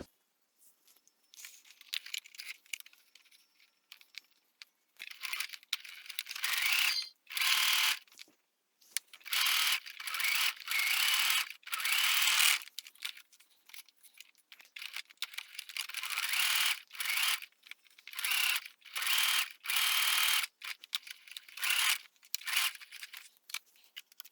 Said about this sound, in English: let's head to our sewing machine now.